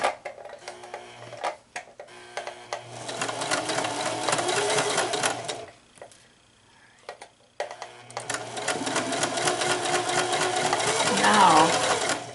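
A sewing machine stitches down the side of a fabric face mask, running in close, steady bursts with a short stop partway through before continuing at a fast even pace.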